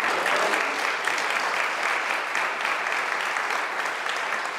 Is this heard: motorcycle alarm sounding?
no